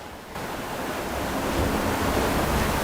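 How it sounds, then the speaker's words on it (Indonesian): Waves surge and rush into a rocky hollow on Pulau Kunti, a continuous loud roaring wash that swells and holds, with no voices. "terpaan ombak yang masuk ke dalam rongga itu sehingga mengeluarkan suara"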